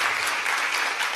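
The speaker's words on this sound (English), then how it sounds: "I don't know if that's applause or I should have pity" A church congregation applauding at a Sunday celebration service, a dense steady wash of clapping that fills the short moment evenly with no voices over it.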